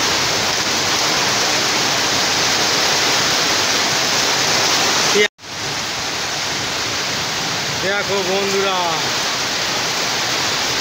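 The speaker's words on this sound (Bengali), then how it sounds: "এই শিল পড়ছে, শিলা বৃষ্টিতে আমগুলো সব নষ্ট হয়ে যাবে" Heavy Kalbaishakhi storm rain with hail pours down in a loud, steady broadband roar, broken by a brief dropout midway, while a voice speaks briefly near the end.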